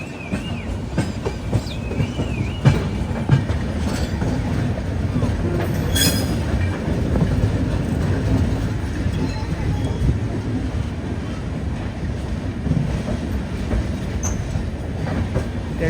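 An express train bound from Lokmanya Tilak to Gorakhpur runs on a parallel track alongside a moving train, giving a steady, continuous rumble of wheels and cars with faint clickety-clack throughout.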